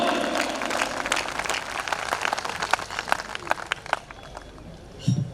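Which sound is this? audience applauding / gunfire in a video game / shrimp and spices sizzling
audience applauding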